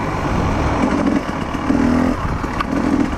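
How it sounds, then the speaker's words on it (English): A 2021 Beta 300 dirt bike runs along a smooth, sweeping trail, its engine a steady mid-pitched drone that rises and falls slightly as the rider works the throttle, heard at moderate volume throughout. "We're loving our bikes. I'm on a 2021 Beta 300. My dad's on a 2020 KTM 300."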